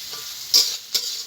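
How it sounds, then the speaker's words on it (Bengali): Carrots, beans and capsicum fry together in a pan, a steady hiss of sizzling broken by two quick, louder bursts as the vegetables are stirred. "এখানে গাজর, বিনস, ক্যাপসিকাম আমি একসঙ্গে ভেজে নেব।"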